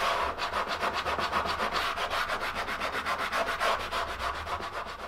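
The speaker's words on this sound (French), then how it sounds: "De cette façon-là, on est sûr d'avoir un ponçage qui est régulier" Hand sanding across a wooden marquetry panel, a steady rhythmic back-and-forth scrubbing of abrasive over wood, close and continuous with no talk.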